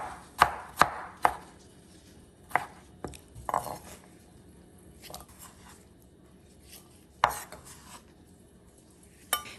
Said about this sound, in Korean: 토마토 한 개도 잘게 썰어 주시고요